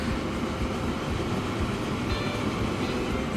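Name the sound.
cargo train running in video game Transport Fever 2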